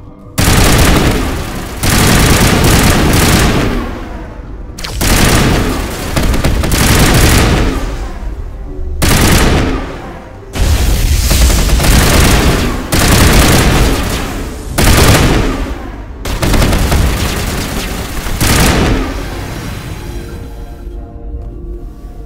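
Heavy bursts of automatic gunfire and booming shots in a Mass Effect Legendary Edition firefight, loud and close, coming in repeated volleys separated by brief pauses.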